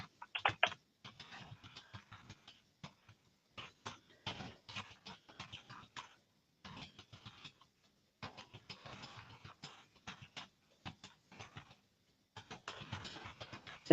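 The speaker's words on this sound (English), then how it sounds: "So just a second while I type" Computer keyboard typing while entering a test post in a scheduling tool, bursts of quick close clicks separated by short pauses, fairly quiet with no talking.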